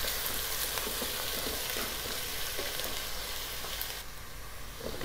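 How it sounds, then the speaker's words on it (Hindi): Onions with garlic-ginger paste frying in a pan for chicken pulao give a steady, dense, close sizzle with faint stirring clicks throughout, and no one speaks. "प्याज जब तक ब्राउन होंगे लहसुन अदरक का पेस्ट भी अच्छे से फ्राई हो जाए"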